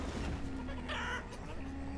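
Chickens in the town-building game Banished cluck softly in a short game scene, a brief quiet cluck rising over a steady ambient background hum, with no speech.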